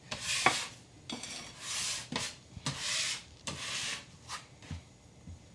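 Repeated scraping of gluten-free biscuit dough with a bench scraper or putty knife, a series of about seven short rasping strokes, close and moderately quiet, with no talk.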